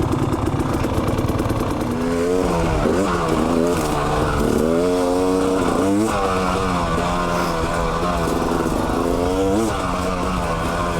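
A 2019 KTM 300 TPI two-stroke dirt bike engine, loud and close, revving up and down in repeated rising and falling bursts over a steady buzzing drone, no talking.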